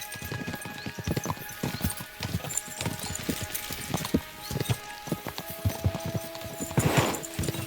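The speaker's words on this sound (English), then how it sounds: "We should spur the horses on!" Horses in Kingdom Come Deliverance 2 clip-clop at a quick, steady pace, hoofbeats close and continuous with a brief whinny-like swell near the end, no talk over them.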